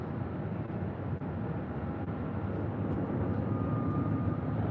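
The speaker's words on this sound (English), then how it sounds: "This flight heading to LAX, flight 463 in this A321neo, now being pushed back." An Airbus A321neo being pushed back at Phoenix airport, heard as a steady, fairly distant low engine and ground-equipment drone that holds evenly throughout.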